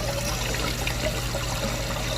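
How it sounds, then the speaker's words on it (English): Samsung HE washer draining water during its rinse cycle, a steady rushing, trickling flow with a low mechanical hum underneath, continuous and fairly close. "It's finishing draining, and you can hear it draining back here"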